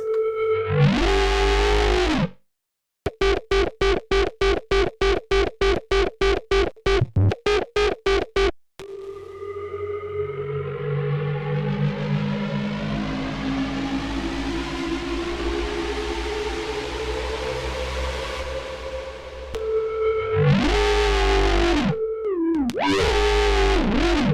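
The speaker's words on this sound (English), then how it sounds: "we're going to make cyberpunk inspired bass sounds like these" Heavily distorted cyberpunk-style synth bass, first a burst of rapid chopped stabs, then a long growling sustained note sweeping in tone, ending with wobbling bass hits.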